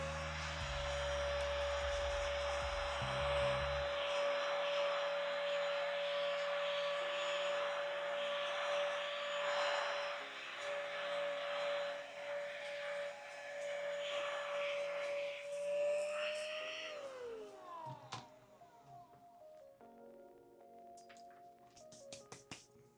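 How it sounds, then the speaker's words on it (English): Vacuum cleaner sucking up plastic model kit shavings on a hobby desk, a loud steady whine with a rushing airflow roar that runs for about fifteen seconds before the motor winds down and clicks and rustles follow. "let's vacuum up the shavings"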